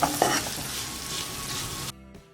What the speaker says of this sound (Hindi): यहाँ पे हमें प्याज, लहसुन और अदरक को अच्छे से पका लेना है जब तक ये सुनहरी रंग के ना हो जाए